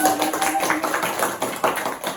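A studio audience claps after a musical performance on an Indonesian talk show, with dense, fairly close hand-claps that are continuous and slightly uneven throughout.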